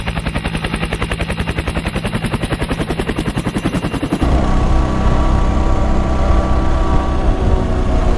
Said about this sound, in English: Oh, nice helicopter! Check that out!